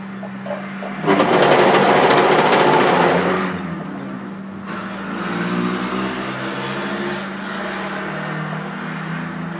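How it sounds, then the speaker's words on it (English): Trucks drive past on a main road leading to the airport and port, heard from inside a sewing workroom: a loud rising engine rumble swells and fades, followed by further steady traffic drone and motor hum. "there's always a lot of trucks going past"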